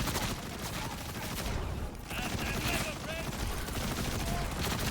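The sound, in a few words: gunfire from a weapon in the video game Borderlands 4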